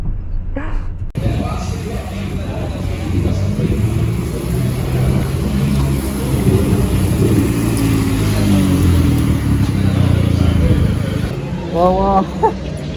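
An Audi TT Cup race car engine runs loud and close on a track, revving through gear changes with a steady mid-pitched drone and rising pitch sweeps toward the end.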